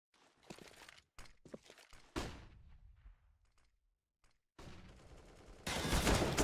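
Gunfire in the video game Counter-Strike during a competitive match on the map Cache, with short bursts of shots and sharp cracks between quiet gaps, then a sustained loud volley at the end.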